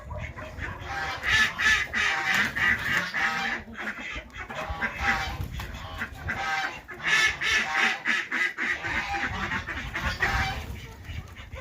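A lively flock of wild ducks quacks nonstop, mixed with chicken clucks, a busy village farmyard chorus close by in the morning.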